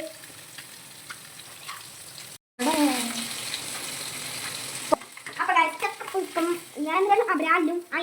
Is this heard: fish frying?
yes